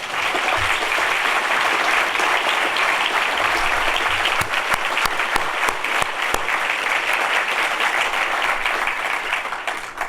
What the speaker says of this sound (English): give them a very, very warm round of applause